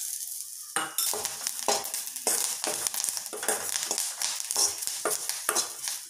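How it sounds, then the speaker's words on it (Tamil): Dried red chillies and curry leaves fry in a little oil for a village-style kudal kulambu, a bright crackling sizzle with repeated scraping stirs and occasional utensil knocks, close and alone. "கொஞ்சமாக எண்ணெய் விட்டு வதக்கிடலாங்க"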